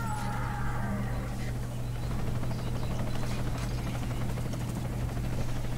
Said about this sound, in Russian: а у нас вертолет с гостями